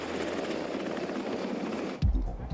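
A Black Hawk helicopter's rotor and engine drone loud and steady with a rhythmic chop, close by, before cutting abruptly to a few low thumps.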